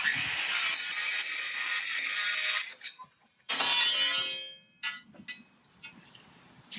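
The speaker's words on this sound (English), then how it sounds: "I think this is the quietest grinder I've ever used as well" A grinder is used during cleanup of a 25-year-old tablesaw being restored: two long, loud bursts of high-pitched abrasive whine split by a short pause, then scattered metallic clinks and taps.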